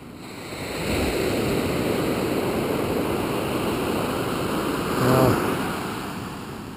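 Ocean surf rolls and breaks on a wide surfing beach on the wild west coast of Vancouver Island: a steady, loud wash of water with wind, swelling briefly near the end, no voices.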